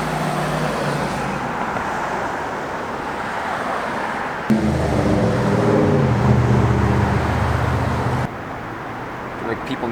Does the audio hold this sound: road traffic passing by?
yes